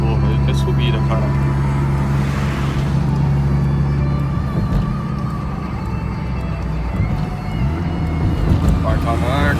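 Volkswagen Fox car engine droning steadily as it climbs a hill, with a gear change partway through and continuous loud road noise; someone talks over it.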